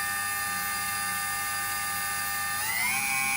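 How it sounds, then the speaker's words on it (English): A Condor XC Mini motor whines steadily at a constant high pitch, then spins up near the end, its tone rising smoothly as it speeds up. Close and continuous, with no voices. "You will hear the motor spin up and start spinning a lot faster."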